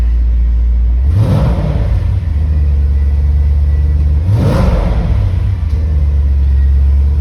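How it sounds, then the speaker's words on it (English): A warm-running 1998 Jaguar XJR (X308) V8 is revved twice from idle. Each blip rises quickly and falls away, and the steady idle rumble continues in between, close and loud with no talk. "We rev it."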